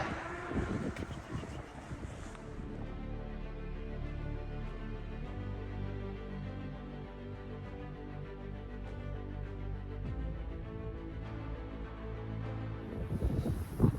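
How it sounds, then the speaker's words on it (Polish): Wind buffets a microphone outdoors during a sunny walk, a continuous low rumble that stays fairly even throughout with no talking. "Troszeczkę wieje wiaterek."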